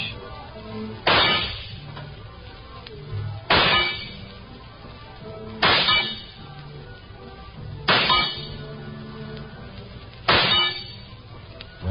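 Five evenly spaced rifle shots ring out as sharp metallic clangs against shooting gallery targets, each hit loud and close with a short ringing decay over a low murmur, in a 1950 radio drama.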